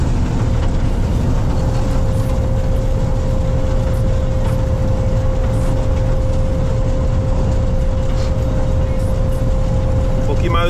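A corn harvesting machine runs steadily during its first day of harvest while its threshing cylinder is adjusted, giving a loud, continuous mechanical drone with a constant hum throughout and no talk over it.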